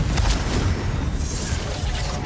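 Confringo spell explosion in Hogwarts Legacy, a loud continuous blast with rumbling low end and crackling debris, filling the whole moment.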